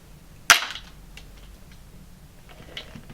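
Flintlock gun hammer snapping down onto a freshly knapped gunflint, one sharp loud metallic crack up close, followed by faint mechanical ticks and clicks, no talking.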